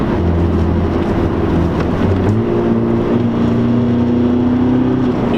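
A 90hp VW Golf TDI engine held at full throttle drones loudly and steadily from close by, its tone rising gradually as the car pulls through a corner.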